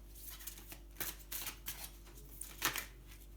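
Tarot cards being drawn and flipped over on a table, a series of quick papery slides and flicks, close and soft, with one crisper snap near the end and no talking.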